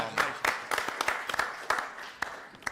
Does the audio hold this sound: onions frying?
no